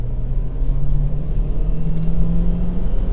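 A 2017 Renault Clio Grandtour with a 1.2 TCe 118 hp petrol engine accelerating hard in third gear, a loud steady engine drone rising slowly in pitch, heard from inside the car with no talking.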